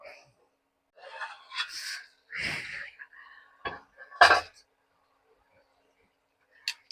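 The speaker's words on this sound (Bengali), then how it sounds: "মশলাটা কষানোর জন্য আমি দিয়ে দেবো ঢাকনা" A lid is set on a pot of spices being sautéed for a young jackfruit and prawn curry, giving a few close, sharp metallic clanks and knocks separated by quiet pauses and soft rustling.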